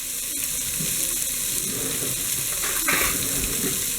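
Onion sizzling in hot grease in a pan, a soft continuous frying hiss with a few faint crackles and a brief louder stir near the end, no talking.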